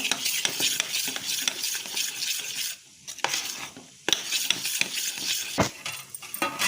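A spoon scrapes and clinks around a bowl of moong dal dhokla batter in quick repeated strokes, with a brief pause midway before the stirring resumes close up.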